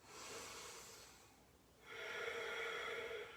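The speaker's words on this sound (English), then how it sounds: "big inhales through your nose and out through your nose" Deep, steady breaths drawn in and let out through the nose during a vinyasa yoga class, two long airy swells of breath separated by a brief quiet pause, close and fairly soft with no talking.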